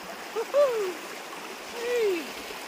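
Floodwater rushes in a steady wash during a crossing, close and constant, while voices call out faintly over it.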